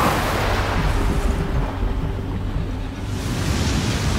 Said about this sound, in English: Water! It's a flood attack!